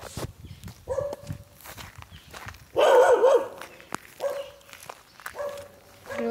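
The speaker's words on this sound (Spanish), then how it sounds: "Hay una casa que tiene puro perro." Dogs bark from a house along a street walk: a few scattered barks, then a loud close burst of barking near the middle, with more barks trailing off and footsteps underneath.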